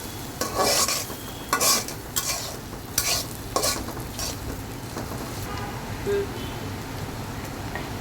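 Garlic and other ingredients fried and stirred in a pan for a Bengali dried-fish curry, with repeated spatula scrapes and knocks over a steady crackling sizzle.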